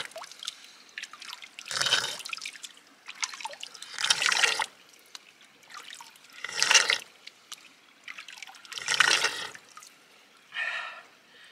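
Someone outdoors on a cold morning drinking cold water in repeated gulps, four or five slurping swallows spaced about two seconds apart with quiet breathing between, close to the microphone.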